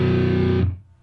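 A distorted electric guitar strikes a single heavy power chord with the fifth voiced in the bass, ringing loud and sustained for about half a second before being choked off.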